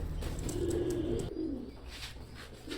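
Pure Omani Teddy pigeons kept for sale give low, throaty coos close by, with soft rustling and a faint higher chirp around them and no speech.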